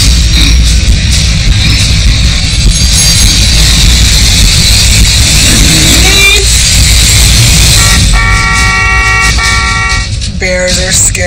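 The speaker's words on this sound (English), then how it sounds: "honking the horn" Car horn sounded again and again in a loud outdoor scene to frighten off bears, a steady harsh blare with tonal honks standing out near the end.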